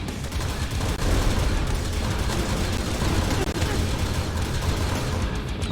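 A mega cannon in the video game Nightmare Reaper fires continuously, its rapid, heavy blasts merging into a dense, loud barrage with no pauses.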